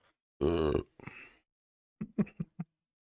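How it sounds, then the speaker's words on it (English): A man burps loudly into a microphone at a lively group gathering: one long, voiced belch up front, then brief rougher throat sounds and a few short bursts of talk close to the mic. "Call him civilized and he burps into the mic"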